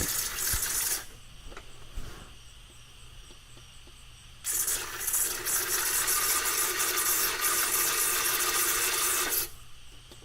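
A hand pump sprayer pushes fluid into a Nissan 350Z manual transmission through the fill hole. It makes a steady hiss that runs about a second, stops, then returns for a long stretch of five seconds before cutting off.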